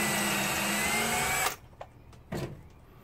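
A power drill with a twist bit whirs loudly and steadily through wood, then stops abruptly, followed by a few faint knocks and handling sounds.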